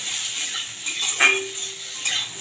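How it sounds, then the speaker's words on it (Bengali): Potatoes frying in a pan with panch phoron, bay leaf, asafoetida and dried chilli, a soft hiss with a couple of light metal clinks of stirring, close and brief. "দিয়ে দিচ্ছি আলুটাকে একটু লাল লাল করে ভেজে নেব"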